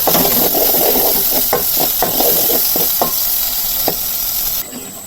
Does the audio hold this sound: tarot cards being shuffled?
no